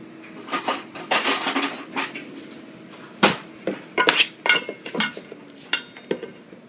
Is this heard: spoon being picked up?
yes